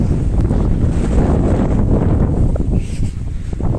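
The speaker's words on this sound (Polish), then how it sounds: "Ale wieje." Strong wind buffets the microphone across an open farm field with a new crop layout, a loud continuous roaring rumble that surges and dips throughout with no other sounds standing out.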